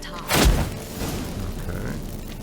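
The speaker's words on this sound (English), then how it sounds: "Get ready for some magic fireworks." A magic fireworks spell in The Witcher 3 goes off as a single deep boom, followed by a low rumbling tail that lingers at moderate loudness.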